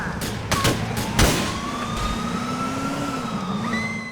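A police siren wails in the video game Grand Theft Auto 4, a loud, steady rising-and-falling tone over traffic noise, with a few sharp thuds early on and no talking.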